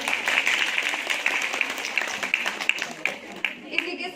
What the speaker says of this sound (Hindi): तो आइए अब हम आपके रंगारंग प्रोग्राम के लिए जोरों से तालियां हो जाएं